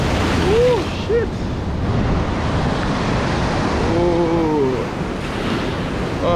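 Rough sea waves surging and washing against the shore on an early-morning fishing trip in Australia, a steady loud roar of surf with wind, and brief voices and whistling tones cutting through.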